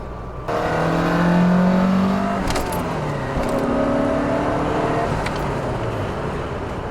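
Lancia Delta HF Integrale Evoluzione II four-cylinder turbo engine revving loudly and close, with a rising then falling tone over several seconds and a steady mechanical rattle underneath.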